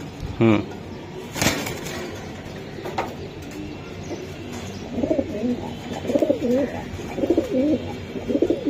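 Soft, repeated racing pigeon cooing close by, a few low throaty calls in a row, with some clatter and background noise early on.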